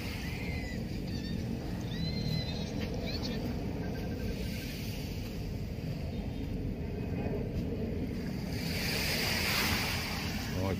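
Waves roll steadily onto the Manila Bay shore, a continuous near wash of surf mixed with blustery wind buffeting the microphone.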